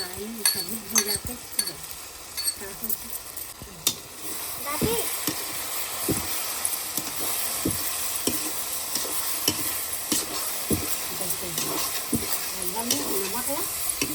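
Garlic frying in a pan for a Chhattisgarhi-style pihiri (mushroom) dish, a steady sizzle with repeated stirring clicks and scrapes, close by, under intermittent talking.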